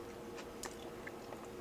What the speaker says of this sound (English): You should probably hear my crunching